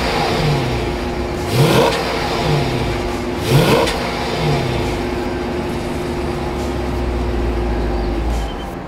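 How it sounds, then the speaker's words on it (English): A 2012 Chrysler 300 SRT8's engine revs up twice in sharp bursts through the exhaust, then settles into a steady, rumbling idle close by. "Let's listen to the exhaust and see how it sounds"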